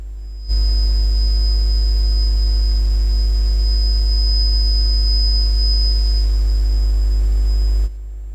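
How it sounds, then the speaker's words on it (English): A single steady pure sine test tone at 5000 hertz, held evenly for about seven seconds alone, starting and stopping abruptly with silence on either side. "Difficult to hear, but it's 5000 hertz"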